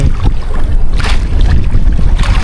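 Strong wind and clashing waves buffet a small squid-fishing boat at sea under a northeast wind, with loud gusty roaring, splashes and water slapping against the hull in uneven surges, close and continuous.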